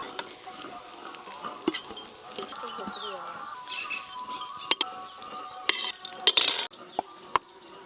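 Lightly fried cauliflower florets lifted from a sizzling pan with a metal utensil, giving scattered clinks and scrapes over steady frying, with a voice speaking at times.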